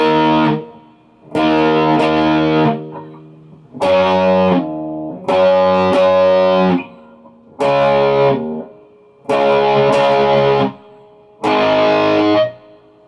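Distorted electric guitar with effects plays the intro riff of KISS's "Calling Dr Love", seven loud strummed chord bursts separated by short silences, no voices.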